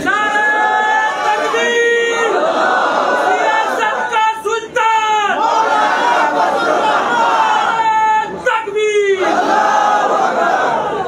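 A large political rally crowd chanting the Takbir slogan, loud massed voices rising in repeated rhythmic call-and-response bursts that swell and break off, close and dense.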